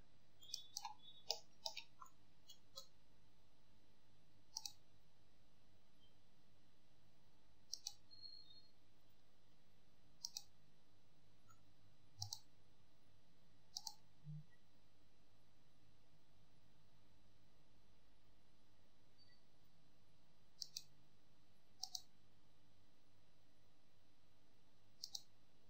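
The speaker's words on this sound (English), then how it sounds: "You need to click on here and click on here." Computer mouse clicking during 3D modeling in Maya 2017, sparse sharp clicks, single and in pairs, spread across a long quiet stretch with soft background hiss, close but faint.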